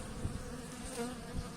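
Honey bees hum in a soft, continuous buzz at a spring apiary. The drone is faint and even, with no voices over it.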